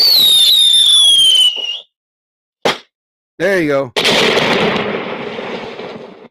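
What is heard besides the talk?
fireworks sound effect on a live show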